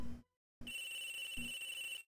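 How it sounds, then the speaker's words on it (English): A telephone rings in the video game Apollo Justice: Ace Attorney, repeated electronic bell trills in quick bursts, fairly faint, with no talking during the ring. "A phone's ringing."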